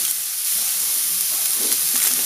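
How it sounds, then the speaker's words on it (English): A sesame stir fry sizzles steadily in a hot pan, a continuous close frying hiss with small crackling pops, no voices. "Call it a sesame stir fry if you like"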